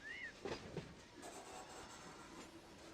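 A train rolls along in the Run 8 Train Simulator 3 game, a steady low rumble of wheels on track with a brief squeal and a few clanks near the start.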